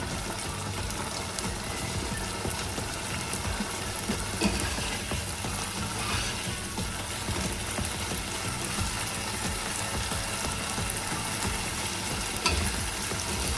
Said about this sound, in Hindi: फिर हम इसको 1-2 मिनट के लिए तेज़ आंच पे थोड़ा सा फ्राई करेंगे।